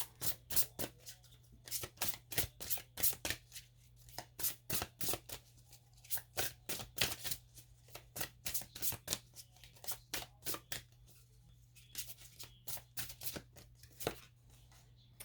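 Tarot cards are riffled and shuffled over and over in quick papery bursts. The sound is soft and close, with a low steady hum underneath.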